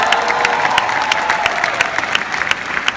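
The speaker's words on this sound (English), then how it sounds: "Not a lot of people are clapping about that" A concert audience claps in a dense, steady patter with a murmur of crowd noise underneath, moderately loud and continuous.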